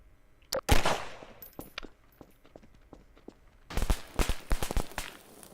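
Small cracker fireworks in a Garry's Mod fireworks addon go off at night in a city map, sharp popping bursts in a quick scattered series, then a denser crackling volley.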